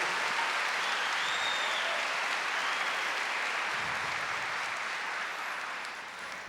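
A church congregation at a Catholic service led by a priest applauds in a dense, sustained wash of clapping that fades slightly at the end.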